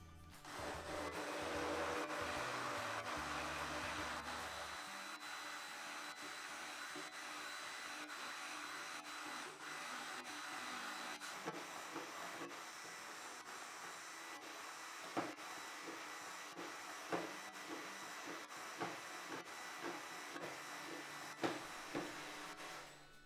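Coffee cream liqueur with brandy and rum is whirred in an electric blender, a steady motorized hum with a drop in pitch partway through, then a series of soft knocks as the motor runs on.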